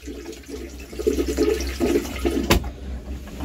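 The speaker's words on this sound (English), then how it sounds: "why don't you just go ahead and flush it?" A marine toilet flushes aboard a boat with a holding tank: a steady, close rush of water runs for a few seconds, broken by a sharp clunk near the end.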